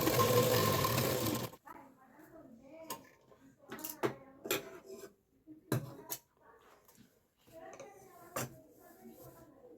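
A sewing machine stitches the lining piece onto a homemade potli bag in a loud steady run for about a second and a half, followed by quieter intermittent clicks and fabric handling.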